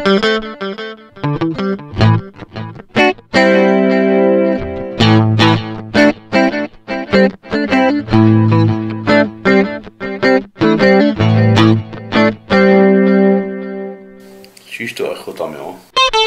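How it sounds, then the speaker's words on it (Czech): Electric guitar played through an echo delay effect, a steady run of distorted picked notes whose repeats trail after each attack, loud and close, ending in a noisy wash of effect sound. "Nebo delay se tomu říká, prostě to opakuje"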